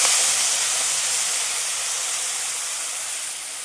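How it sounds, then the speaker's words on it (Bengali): Spice paste hits hot oil with nigella seeds and a chili in a pan, giving a loud, steady sizzling hiss that slowly eases over a few seconds, with no talking. "যে বাটা মশলাটা ছিল একসঙ্গে মিশ্রণটা দিয়ে দেবো তেলের উপরে"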